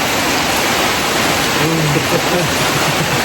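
Heavy rain pours down in a dense, steady hiss during a flood, with a faint voice briefly audible beneath the downpour.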